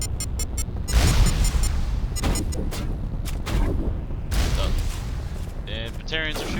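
Batarian enemies firing weapons in the video game Mass Effect, a rapid string of sharp gunshot bursts and booms of varying loudness, with electronic weapon tones near the end and a voice speaking over the fire.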